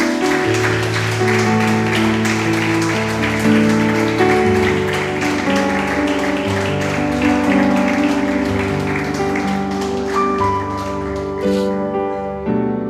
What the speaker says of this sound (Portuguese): Dê uma salva de palmas para Jesus, querido.